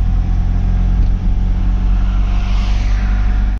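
A Mahindra Jeeto mini truck cruising onto a bypass at around 70 km/h, its engine droning loud and steady with a constant low hum and road noise, no voices.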